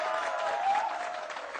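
An audience claps for itself at a campus event, a short stretch of fairly soft, steady applause with a faint tonal hum running beneath it.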